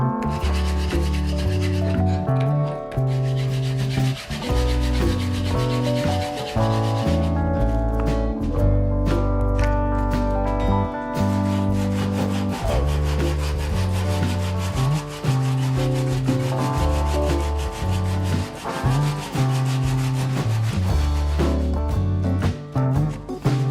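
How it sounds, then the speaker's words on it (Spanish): Coarse sandpaper scrapes rusty metal chisels in steady back-and-forth strokes, a loud, continuous gritty rasp with no talking. "una lija de grano grueso más o menos y iremos subiendo hasta llegar a 240"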